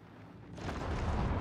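Bomb blast in the Star Citizen space game, a single deep rumbling explosion swelling in and rolling on as a broad, loud roar.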